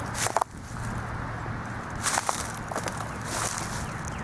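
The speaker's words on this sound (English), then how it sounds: "me tromping through leaves and snapping twigs" Footsteps crunch through dry leaves and snap twigs in a few bursts, close by, over a steady low hum of distant traffic, in Elizabethtown, Kentucky.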